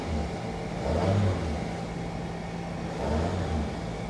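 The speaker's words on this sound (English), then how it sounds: "Let's give her a little rev." A 2012 Porsche Cayman at an auction yard idles with a low, steady drone, then revs twice in short throaty swells a couple of seconds apart, heard from nearby with no talk.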